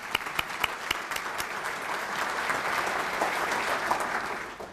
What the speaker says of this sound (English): Please give a round of applause for all of our sponsors for today.